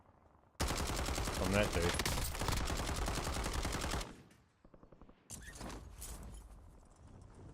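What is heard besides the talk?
gunfire in a video game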